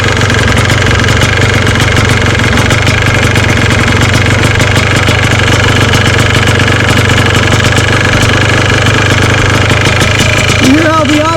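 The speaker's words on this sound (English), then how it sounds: "You hear how the idle is going up?" A Yamaha Blaster engine idles steadily and loudly up close while its fuel-air mixture is adjusted, the idle speed gradually rising toward the end; someone talks over it.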